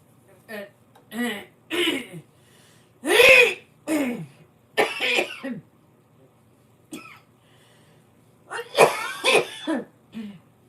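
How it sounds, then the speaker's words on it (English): Several harsh coughs and throat-clearing bursts in irregular clusters, close and fairly loud, with quiet pauses between them. "If I could just give a good cough"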